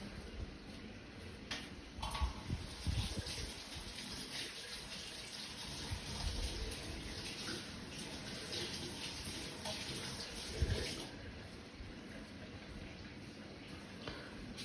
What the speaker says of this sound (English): I just quickly want to rinse everything.